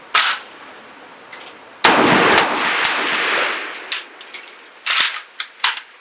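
Shots from a Century Arms C39 V2 AK-47 rifle, a loud close report followed by a burst of rapid fire and scattered single shots with clanks, echoing outdoors.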